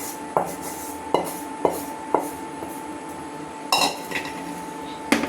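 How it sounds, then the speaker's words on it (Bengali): Cooked goat trotters are poured into a pot of lentil haleem amid a series of sharp metallic clanks and scrapes of a utensil against the pot, spaced irregularly, with a louder clattering splash near the end. "দেখুন এখন আমি যে খাসির পায়াগুলো রান্না করে রাখছিলাম সেগুলো দিয়ে দেবো।"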